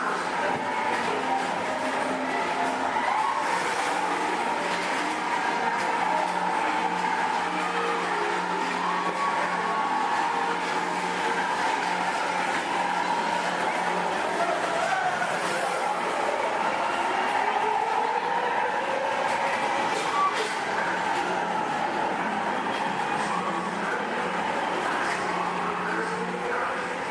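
Space Mountain, the indoor high-speed roller coaster at Walt Disney World, gives a steady rumbling roar of cars running along the track, with faint whirs and hums throughout and no clear talking.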